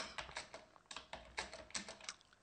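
Rapid keystrokes on a computer keyboard while entering C++ code, a quick uneven run of close, crisp clicks with brief pauses between bursts.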